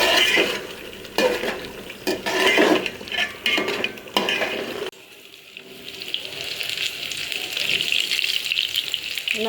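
Cooking clatter in a pan as curry is finished with cumin, garam masala and green chili: metal scraping and stirring with light sizzling, busy for the first half, then a softer steady frying hiss.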